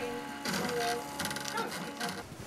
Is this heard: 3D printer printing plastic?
yes